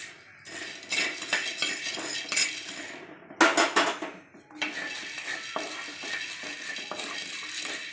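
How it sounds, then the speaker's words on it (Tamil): Peanut brittle being dry roasted in a pan, with dense metallic scraping and clinking of a spoon against the pan alongside faint crackling, continuous and close up. "அடுத்தது கடலைப்பட்டை வறுத்துக்கலாங்க"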